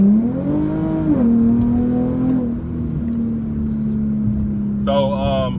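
An Infiniti G37 engine drones steadily with a raspy, loud exhaust tone through ISR test pipes, rising briefly in a rev; a voice cuts in near the end.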